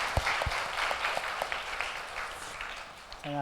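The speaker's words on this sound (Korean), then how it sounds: "오늘 3일 동안 은혜의 말씀 전해주신 목사님께 감사와 박수 한번 하겠습니다." Congregation applause for a visiting pastor at the close of a revival service, a broad steady wash of clapping with a few sharp close claps and low murmuring voices underneath.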